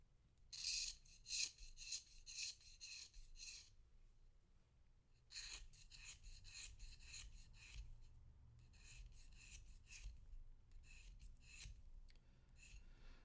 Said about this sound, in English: I'm going to scrape from down here all the way up to the top.